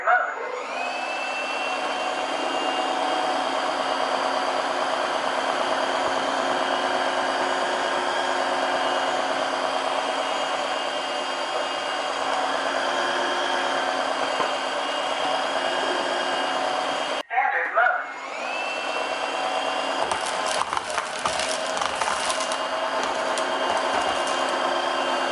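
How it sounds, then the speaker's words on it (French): A vacuum cleaner runs continuously over a floor with a steady high whine, close by, and briefly cuts off and restarts partway through. "on va voir si l'aspirateur est vraiment efficace"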